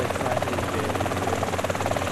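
Helicopter in GTA San Andreas Multiplayer, a close, loud rotor drone with a fast, steady chop and a buzzing engine tone throughout, no talk heard.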